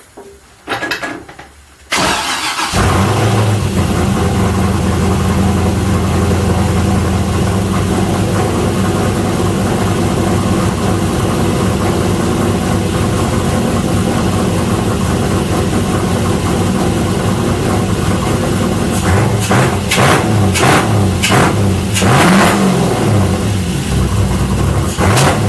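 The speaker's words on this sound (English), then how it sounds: "I'm going to start it for a split second just to make sure that everything is still right before I start dressing the motor." An LC9 LS V8 swapped into a Mazda Miata cranks briefly, fires up and settles into a loud, rough, continuous idle with bursts of revving near the end, close by and alone.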